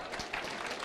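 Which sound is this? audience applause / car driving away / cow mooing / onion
audience applause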